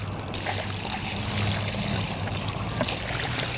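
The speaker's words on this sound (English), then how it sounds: "we want to flood this right in with water again" Water gushes and trickles steadily into the hole around a newly planted tree, a continuous close-up pouring and gurgling with no voices.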